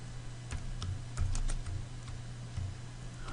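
Fingers type on a computer keyboard at a desk, producing faint, quick, irregular key clicks over a low steady hum.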